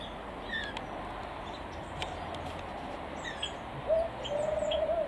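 Quail in an outdoor aviary give a short whistled call near the end, with faint chirps from other birds scattered throughout against a steady background hiss.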